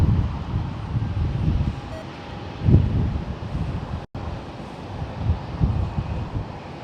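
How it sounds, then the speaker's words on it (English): Strong gusty wind buffeting the microphone at San Jose Airport, a low roaring rumble that swells and fades in bursts, with a heavier gust near the middle and faint aircraft noise underneath. "Man, the wind out here is brutal."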